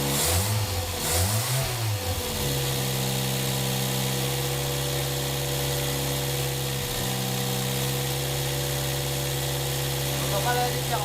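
Renault Super 5 engine after an engine replacement, revving in short bursts at the start, then settling into a steady idle hum up close, with a voice speaking briefly.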